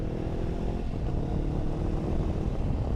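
Honda NX500 motorcycle running with its exhaust baffle removed, a steady loud low engine rumble heard from the rider's position with wind noise, no talking.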